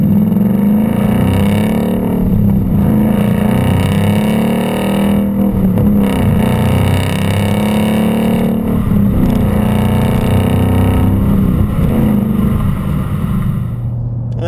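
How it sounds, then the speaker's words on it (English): A 2015-2017 Ford Mustang GT with a Mishimoto race axle-back exhaust cruises near 2,000 RPM in sixth gear, a loud, deep, steady exhaust drone from inside the car with slight swells in pitch. "You can hear the depth, because you can tell it's an aftermarket exhaust"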